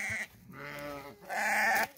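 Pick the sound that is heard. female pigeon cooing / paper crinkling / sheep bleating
sheep bleating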